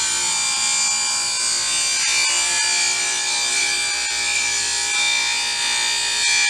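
A table saw cuts an angled line along a board held in a tapering jig, a steady loud whining blade drone with a rough grinding texture that holds throughout with no talk.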